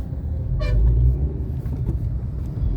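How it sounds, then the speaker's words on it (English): A Suzuki Ignis BS6 Sigma hatchback pulls away from a standstill, its engine holding a steady low rumble with a brief tonal chirp near the start, heard from up close, with no talking. "I will just launch it up now."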